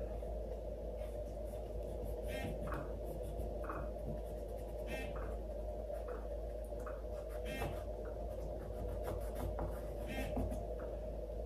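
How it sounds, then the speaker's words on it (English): Pencil drawing on paper, with soft scratchy strokes and short rubbing bursts from erasing, faint and close over a steady low hum. "I'm going to erase a little bit"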